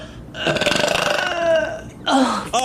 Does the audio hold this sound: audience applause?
no